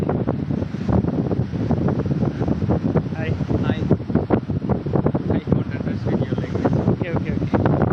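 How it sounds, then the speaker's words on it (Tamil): Strong coastal wind at Porbandar buffets a phone microphone on a selfie stick, making a loud, continuous rumbling roar for the whole stretch while someone talks over it. "சரியான காற்று அடிக்குதுங்க."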